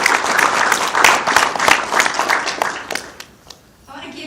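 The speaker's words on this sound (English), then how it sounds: "give a round of applause for Shaheen and his MSA for the work that they've done together" Lively applause from diners at a fundraising dinner for Syrian refugees in Jordan, with sharp individual claps standing out. It tapers off over a few seconds before a voice starts speaking.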